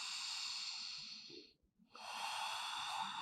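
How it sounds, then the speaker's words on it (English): Slow, audible breathing during a yoga hip-opener stretch: a long hissing breath, a brief pause, then another drawn-out breath, close and steady with no talking. "Breathing into that hip opener."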